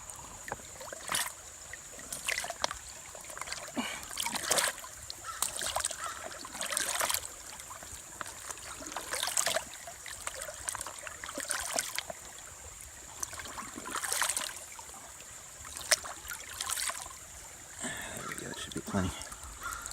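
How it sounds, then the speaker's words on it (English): A backpacking water bladder is dunked into a deep forest stream to fill, with repeated soft splashes and gurgles at a steady rhythm close by over a low running-water bed. "So I should be able to dunk my water bladder in here."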